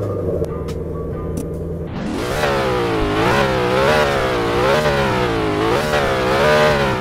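A Ford Mustang GT350R engine in a Roblox driving game set in Jupiter, Florida, idles steadily, then climbs into a series of rising and falling revs, loud and up front with no talking.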